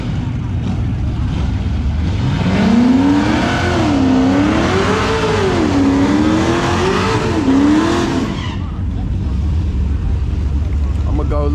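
A car at a street car takeover meet spins its tires: the engine wails up and down in surging revs for several seconds, loud and close over a crowd murmur, then cuts away to quieter background rumble.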